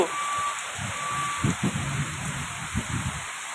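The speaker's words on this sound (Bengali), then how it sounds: "দেখুন কি পরিমাণে বৃষ্টি বেড়ে গেছে" Heavy rain pours down amid a stormy wind, a steady broad wash of falling water with some low rumbling gusts and thuds beneath, with a faint tonal beep in the background and no talk.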